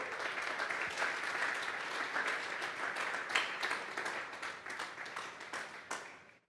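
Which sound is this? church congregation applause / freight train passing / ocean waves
church congregation applause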